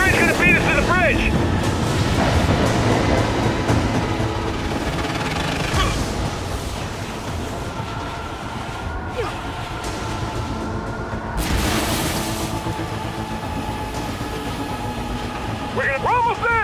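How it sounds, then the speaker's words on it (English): A train rumbles and clatters through a Gears 5 game scene in a steady, loud mechanical roar, with wind rush and shouted game dialogue over it. "The train's gonna beat us to the bridge!"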